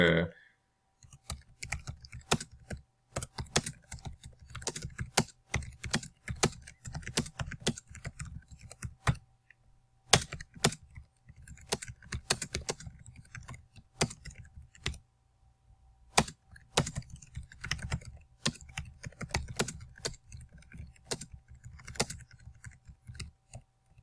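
Request details are typed on a computer keyboard in rapid bursts of close, crisp key clicks separated by short pauses, with no talking.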